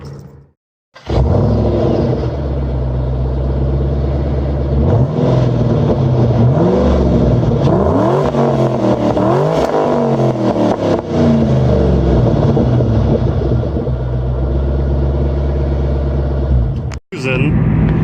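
A 2009 Ford Mustang GT/CS V8 drives off after a door shuts, its loud, steady engine drone rising and falling through gear changes, with a voice talking over the cabin noise.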